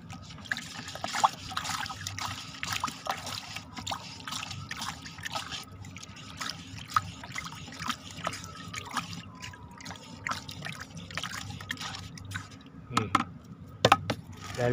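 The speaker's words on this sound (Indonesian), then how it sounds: "kita aduk" Liquid organic fertilizer mixed with soy sauce is stirred in a container, giving a steady soft trickle and sloshing of liquid with small drips and splashes, close by and fairly quiet throughout.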